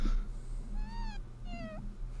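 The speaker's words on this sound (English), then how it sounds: "It was the cat." A domestic cat meows twice in quick succession, rising then falling, close to a microphone on a sports podcast, over a steady low hum.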